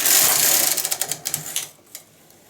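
A knitting machine carriage is drawn across the needle bed to knit one row, giving a rapid mechanical clatter of ticking needles that is loud at first, then slows and fades out partway through, with no voices.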